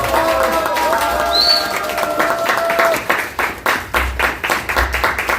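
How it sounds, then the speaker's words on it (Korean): Audience clapping as a speaker is welcomed at a patriotic talk show event in Daejeon, starting under a background tone and growing into distinct rhythmic claps from a crowd, with some voices present. "큰 박수로 맞아주십시오"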